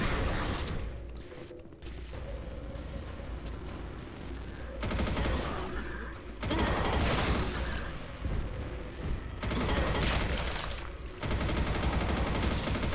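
Rapid automatic fire from the chain gun in the game Disdain, sustained bursts of loud mechanical gunfire with explosive impacts, broken by brief pauses and continuing throughout.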